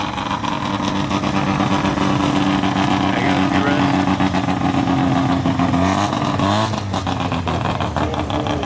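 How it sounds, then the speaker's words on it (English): A Mazda RX-7 rotary engine idles with a loud, buzzing drone at a cars-and-coffee meet, then gives a couple of quick revs that rise and fall near the end, all at close range. "I'm gonna see if we can get a few revs right now because it just sounds so wild"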